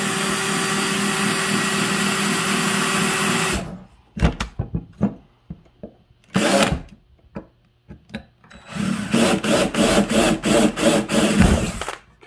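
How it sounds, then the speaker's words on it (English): A power drill bores into the muffler of an Echo CS590 chainsaw, a loud continuous whine that stops abruptly, followed by short bursts and pauses, then a run of rapid pulsing drilling bursts close by. "I'm going to drill a little hole in here."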